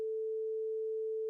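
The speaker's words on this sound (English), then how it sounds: "What you are hearing now is both sine waves combined," A steady pure tone made of two 440 Hz sine waves summed about 90 degrees out of phase, giving a single constant hum at reduced strength that holds evenly for just over a second and then stops abruptly.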